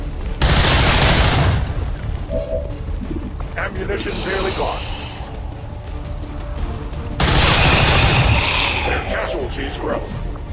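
Loud bursts of automatic gunfire in XCOM 2: War of the Chosen, two sustained volleys at the start and again later, with quieter combat clatter in between.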